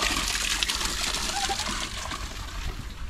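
Waterfall at Chadwick Lakes pouring steadily, a continuous broadband rush and splash of falling water holding an even level throughout, with faint speech partly under it.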